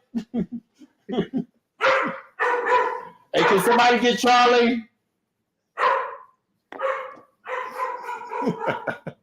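A guard dog barks in a series of loud, close yips and bow-wows in short bursts, with a person's voice talking between and over the barks.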